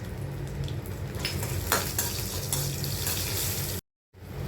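Green chillies, dried red chillies and cashews fry in hot oil, giving a steady close sizzle and crackle with light stirring scrapes, cut short by a brief dropout near the end.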